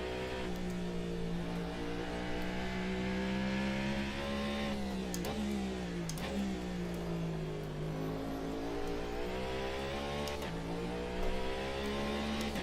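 A BMW LMDh race car engine in Automobilista 2 at Kyalami drones loud and steady, holding a sustained high-revving note that dips and climbs through the gears, with no talk.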